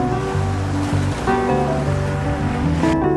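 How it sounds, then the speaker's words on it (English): Ocean surf rolling in at Waialua Bay on Oahu's north shore, a steady loud wash of breaking waves with wind, continuous and close, with no voices. "Beautiful Waialua Bay on the north shore of the island of Oahu."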